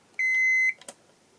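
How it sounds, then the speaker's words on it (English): A restored Soviet Elektronika 6.15M electronic alarm clock sounds one sharp, loud, steady electronic beep, followed by a couple of faint clicks, in a quiet room. "And the alarm started."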